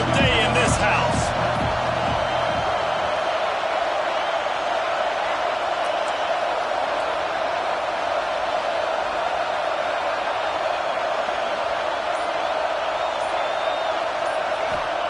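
Loud Oregon home stadium crowd roaring during a football game against Ohio State, a sustained wall of cheering and noise that holds steady throughout.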